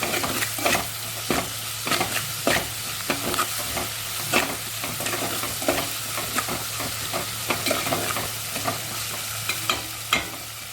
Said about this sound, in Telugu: అల్లం వెల్లుల్లి పేస్ట్ పచ్చి వాసన పోయే వరకు నూనెలో అయితే ఫ్రై చేసుకోవాలండి